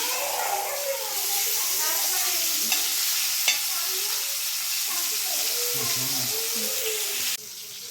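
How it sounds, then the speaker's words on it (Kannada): Fish fries on a tawa with a loud, continuous sizzle that stays dense and even throughout, with faint voices underneath before the sound drops slightly near the end. "ಈ ರೀತಿ ಫಿಶ್ಶು ಫ್ರೈ ಆಗ್ತಿರುವಾಗ"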